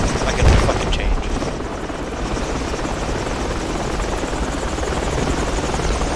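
Helicopter in the Project Reality military video game, a loud continuous rotor drone with a brief thump near the start, steady and close throughout.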